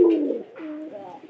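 A pigeon coos nearby, a low throaty warble that dips and rises, heard alone and fairly clear.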